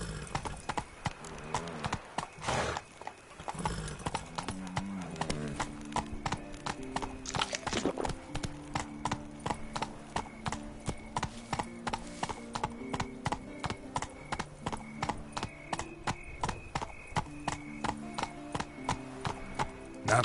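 Hooves of the horse Roach clop in a steady, rapid galloping rhythm through a video game scene, set over a melodic music score at moderate volume with one sharp accent early on.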